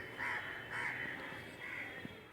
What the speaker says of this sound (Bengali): এখন কাক ডাকছে, নানা রকম পাখি, ঘুঘু পাখি